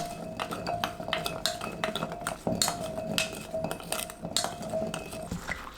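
Microwaved garlic cloves tossed with fine salt in a bowl: a busy run of light clinks and scrapes from a utensil against dishware, close and fairly quiet, with no talking.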